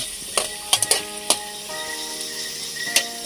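Food frying in a pan while squash is sautéed with other ingredients, a steady sizzle broken by sharp clinks and scrapes of stirring.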